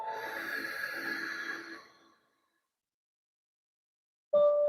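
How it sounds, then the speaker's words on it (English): A person draws a slow breath in through the nose during a guided breathwork session, a soft, steady airy rush lasting about two seconds. Silence follows, then a voice begins at the end. "Breathing in"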